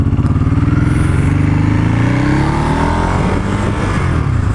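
A Ducati Hypermotard engine pulls hard on a short test run, the rising rev sweep loud and close with a throbbing rhythm and rushing wind.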